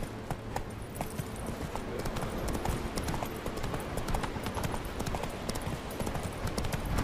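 Roach, the horse in the video game The Witcher 3, trots along with a steady rhythmic clip-clop of hooves, moderately loud and continuous throughout.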